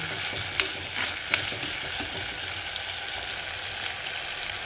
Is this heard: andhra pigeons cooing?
no